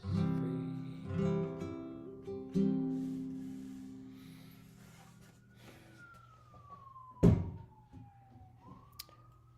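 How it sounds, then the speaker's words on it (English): A siren wails faintly from the street outside, heard through a window as a long falling then rising tone, distant and thin, preceded by soft musical or vocal tones and a single sharp thump. "Apologize for any sirens that you hear outside in the moment of that coming through my window."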